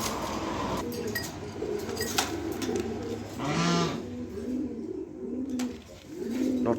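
Large male pigeon cooing up close, a series of repeated throaty rolling coos in short bursts separated by brief pauses, with some clinks and shuffling around it.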